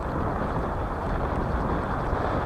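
Steady broadband wind roars and buffets the microphone beside the Yenisei River near Tatyshev Island during grayling fishing, a continuous loud rush with no breaks or voices.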